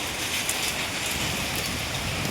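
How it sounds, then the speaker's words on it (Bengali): Dense, steady rain with hail pours down without pause, a loud hissing wash of drops drumming on surfaces close by. "এত শিলাবৃষ্টি, রুমের ভিতরে সিল ঢুকে গেছে"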